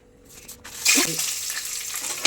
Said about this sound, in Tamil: எண்ணெய் நல்லா காஞ்ச உடனே வெந்தயம் காஞ்ச மிளகா 2 சேர்ந்தாப்புல போடணும்